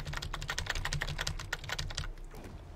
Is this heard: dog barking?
no